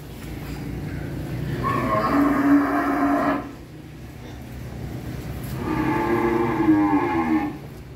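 Cattle on a Vietnamese cattle-breeding farm low loudly in two long, drawn-out calls, each lasting a couple of seconds, with steady farmyard background noise between them.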